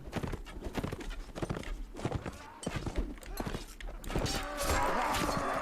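Horse in Mount & Blade Warband with an Ottoman mod, rhythmic hooves clip-clopping through a battle, moderately loud, with someone talking over much of it and a brief whinny-like cry near the end.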